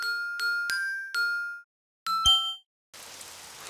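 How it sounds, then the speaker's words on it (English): Rain in a cartoon is played as a run of bright, ringing chime-like dings, several separate tinkling strikes with short pauses between them, followed by a soft hiss of falling rain. "Oh, it's raining outside."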